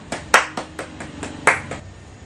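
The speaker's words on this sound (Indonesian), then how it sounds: "berikan tepuk tangan untuk kelompok audiovisual" Sparse, uneven handclaps from a small classroom group applauding a student audiovisual team: about eight separate claps, some sharper than others, with quiet gaps between them.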